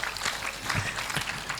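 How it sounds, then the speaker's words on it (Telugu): An audience at a school event in Tenali claps for teachers, a quiet, even wash of many hands patting continuously for a short stretch, without voices. "ఒక్కసారి గట్టిగా క్లాప్స్ అలాంటి టీచర్స్ కోసం మనం"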